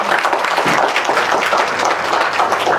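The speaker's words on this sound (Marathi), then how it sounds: "त्यामुळे एक जोरदार टाळ्या योगेशसाठी झाल्या पाहिजे" A crowd applauds at a film premiere for the film Dhaap. The clapping is dense and continuous, filling the whole stretch at a steady, loud level.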